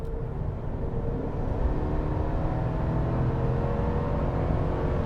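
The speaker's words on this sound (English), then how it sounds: "Truck has absolutely no trouble getting down the road and getting up to speed." A 2021 GMC Sierra AT4 pickup with a 6.2 liter engine accelerates hard, a steady loud rumbling drone that holds from start to finish, heard from inside the cab with no talking.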